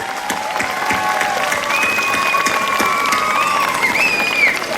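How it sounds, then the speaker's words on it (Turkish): A festival audience applauds musicians with sustained, dense clapping mixed with cheers and high whistles, loud and steady throughout. "Kuvvetli bir alkış istiyoruz"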